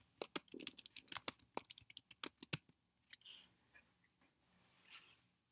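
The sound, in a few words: typing on a computer keyboard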